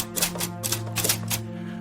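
Rapid, steady clacking of typewriter keys up close, a busy run of strikes over a low, droning room hum.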